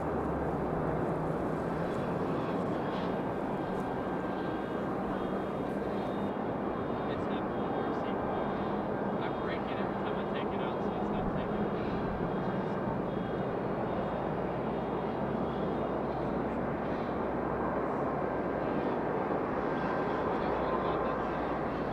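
An Alaska Airlines Boeing 737-800 bound for Houston at Raleigh-Durham airport, its jet engines a steady broadband roar that stays loud throughout with a faint whine on top, while a person talks over it.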